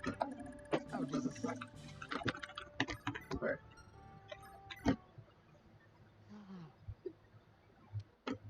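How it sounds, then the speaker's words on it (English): Computer keys clatter in quick, uneven bursts of close clicks during an online game session, with pauses between runs of typing and a voice talking at moments over them. "Swords has been typing for a while"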